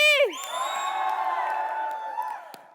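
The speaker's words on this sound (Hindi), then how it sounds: "जोरदार तालियों से स्वागत कीजिए" A studio audience on a Hindi TV comedy show cheers and whoops, with an initial rising whistle-like shout then sustained, fairly loud cheering that fades out over a few seconds.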